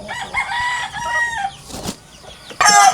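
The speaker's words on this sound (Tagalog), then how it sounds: "Nandito po yung mga sisiw, nandito na sa labas." Hens with their chicks of the Basilan oriental breed cluck outdoors near a coop, with steady nearby clucking and calling that ends in a loud, high burst of squawks.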